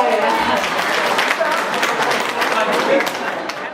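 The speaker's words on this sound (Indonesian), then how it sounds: "Tepuk tangan untuk kami berdua ya." Applause from an audience at a reunion of former company employees fills the clip, a dense steady wash of clapping mixed with crowd murmur that holds throughout and eases slightly at the end.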